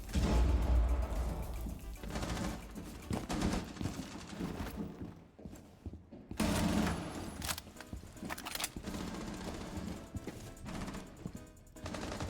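SMG-11 submachine gun fire in Rainbow Six Siege: dense bursts of rapid, sharp shots in a loud, busy game mix, with a short quieter pause midway before firing resumes.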